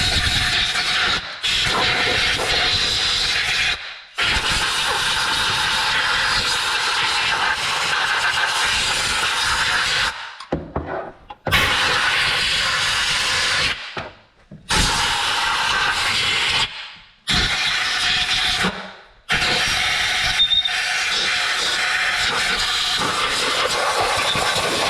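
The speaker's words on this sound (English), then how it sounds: "and air compressor, let's see" An air compressor in a shop blows air during clutch cleaning on a 2026 Can-Am Defender HD11, making loud, close, sustained hissing blasts broken by several abrupt pauses, with no talking.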